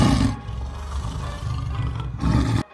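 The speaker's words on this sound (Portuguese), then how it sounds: "eu comecei a escutar um som. E era um som do animal que estivesse rosnando." Deep animal growl and roar as a sound effect in a horror story, loud and continuous with rumbling low texture, swelling near the end before cutting off abruptly, with no talk over it.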